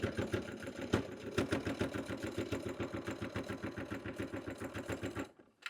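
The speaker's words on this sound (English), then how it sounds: "I'm going to line it up with the dot and sew across" Sewing machine stitching a seam across a bag with thick foam layers, a steady rapid mechanical rattle of needle strokes running close and loud for about five seconds before stopping abruptly.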